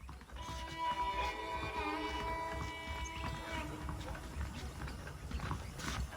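Horse hooves clip-clopping in Red Dead Redemption, a steady rhythmic trot close by with a soft ambient game background and faint tonal music underneath.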